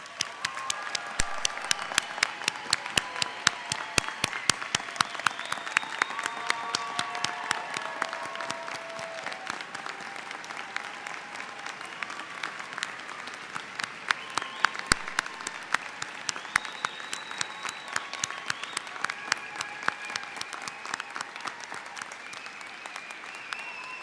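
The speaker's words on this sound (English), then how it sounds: "I ask that everyone please join me again in applauding them." Sustained audience applause for graduates at a university commencement ceremony in Dahlonega, a dense steady patter of many hands clapping throughout, with occasional louder individual claps standing out.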